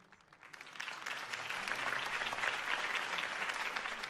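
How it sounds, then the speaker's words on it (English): After a campaign speech for Harvey Dent in Gotham, a crowd bursts into applause that swells from quiet to a steady, fairly distant roar of clapping and carries on without talk. "could have heard that applause"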